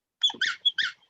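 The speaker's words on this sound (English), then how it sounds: "It was underneath the little cabinet and the dog was going nuts" An excited dog going nuts under a small cabinet, giving a quick burst of high squeaky whines and yelps, four or five sharp cries close by with no talking.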